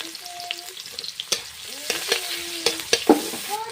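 Onions sizzle in hot oil, a steady frying hiss under clear spoon-stirring scrapes and clinks near the pan, with brief tonal rings as utensil meets pot.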